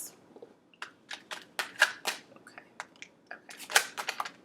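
A deck of tarot cards shuffled in short, uneven bursts of crisp papery riffles and taps, close to the ear, with brief pauses between the strokes and no talk.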